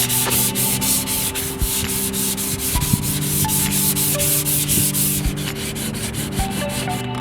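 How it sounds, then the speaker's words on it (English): Fine 3M P320 sandpaper rubs by hand over set primer on car bodywork, a close, continuous raspy scraping made of quick back-and-forth strokes with no talking. "I'm gonna go over with some fine 3M P320 sandpaper."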